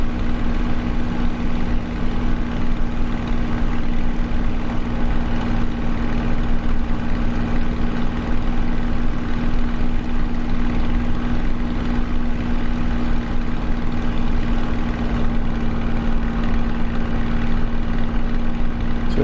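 A Spitfire's propeller engine drones steadily in Microsoft Flight Simulator while flying along cliffs. The tone is loud, even and continuous, with a constant hum and no voices.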